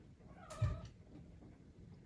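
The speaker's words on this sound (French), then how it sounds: "vous entendez mon chat" A cat gives one short, fairly quiet meow close by against a soft room background.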